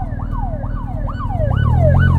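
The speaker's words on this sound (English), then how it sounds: "There's some emergency going on, I can hear police." A police emergency vehicle siren wails in repeated rising sweeps over steady road and engine rumble, loud and close, growing slightly stronger toward the end.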